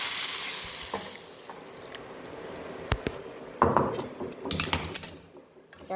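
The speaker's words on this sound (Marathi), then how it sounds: "आता मी ह्याच्यामध्ये टाकते आणि भाजी उकळायला ठेवते." Boiled water tipped into a hot tempering for a leafy purslane vegetable curry in a small kadhai, giving a burst of sizzling and bubbling with metal clinks after a quieter stretch of faint kitchen noise.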